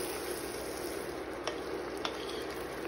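Egusi soup with steamed meat and broth being stirred in a pot, a soft, even bubbling sizzle with a couple of faint spoon taps, quiet and close.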